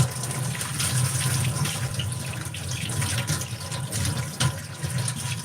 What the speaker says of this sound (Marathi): आता धुवून टाकू